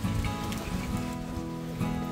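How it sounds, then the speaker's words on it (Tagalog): Rain begins falling near a house with rice paddies, a dense, close, steady patter of drops on surfaces that fills the whole short stretch without any voices. "Nag-i-start na po yung ulan."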